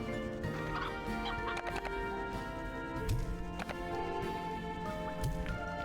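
Chickens in the video game Slime Rancher 2 clucking and gobbling in repeated short bursts over game background sound, fairly close and moderately loud.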